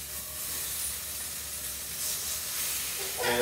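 Soy-based chorizo squeezed from its casing sizzles and hisses steadily in a hot pan, a soft continuous frying noise with no talk, rising slightly near the end.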